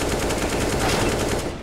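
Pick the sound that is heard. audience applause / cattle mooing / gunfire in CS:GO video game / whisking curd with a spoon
gunfire in CS:GO video game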